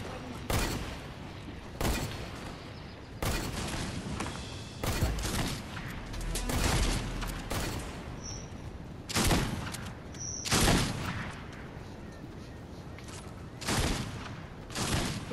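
Lever action shotgun fire in Fortnite: about a dozen sharp, loud shots at an irregular pace over several seconds, with faint talk in places.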